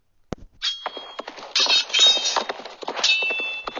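Swords clash again and again amid a fierce fight between soldiers and a wild beast, with loud metallic clangs and rings coming in dense, irregular bursts over the whole scene.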